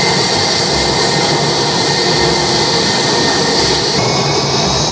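A toy airplane gives off a loud, steady jet-engine roar that holds without a break for several seconds, with no voices over it.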